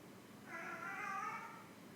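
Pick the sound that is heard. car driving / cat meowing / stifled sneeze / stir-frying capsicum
cat meowing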